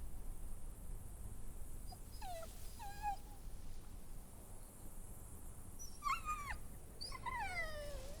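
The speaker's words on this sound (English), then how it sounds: "Can I keep the dog?" A dog whimpering in a few thin, high whines, spaced apart over a steady ambient hiss in The Walking Dead: The Final Season video game.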